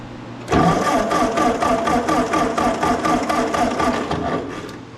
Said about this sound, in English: Turn the key on and crank it over.